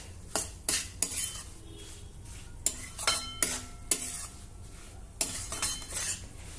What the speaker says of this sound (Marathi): 1 मिनिटासाठी हे ड्रायफ्रूट देखील रव्यासोबतच भाजून घेऊ